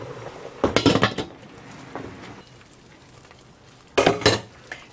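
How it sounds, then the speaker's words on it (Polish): Chopped vegetables with beetroot drop into a pot of soup on a broth base, two clattering bursts against the pot a few seconds apart with quiet bubbling between. "wrzucam już te warzywa z burakami"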